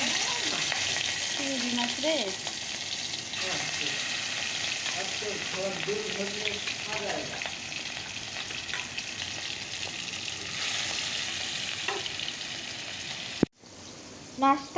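Fish frying in a pan of hot oil makes a continuous sizzle with stirring scrapes. Faint talk drifts in underneath, and the sound cuts out abruptly near the end.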